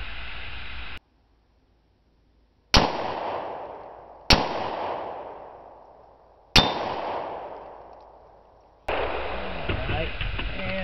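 Three loud metallic clangs from .308 rifle rounds striking a mild steel target, each a sharp impact ringing out and slowly fading, spaced a couple of seconds apart after a brief silence, with another burst of noise at the end.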